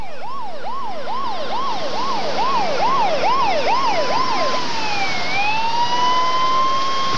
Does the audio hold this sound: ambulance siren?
yes